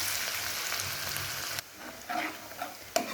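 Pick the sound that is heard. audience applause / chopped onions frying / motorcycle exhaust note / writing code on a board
chopped onions frying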